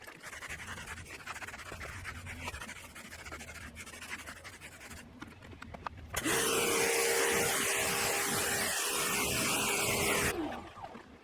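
A car dryer blasts air over a freshly rinsed, scrubbed tire, starting abruptly as a loud, steady roaring whoosh with a tonal whine that holds for about four seconds and then cuts off, after quieter handling noise.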